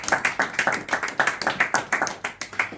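Rhythmic hand clapping at an awards event, steady sharp claps at a quick even pace, close and fairly loud with no talk over them.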